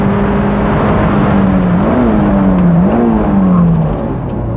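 Honda S2000 engine droning steadily in a car's cabin during heel-and-toe downshifts, with two quick throttle blips that push the pitch up and let it fall back, then a smooth settle.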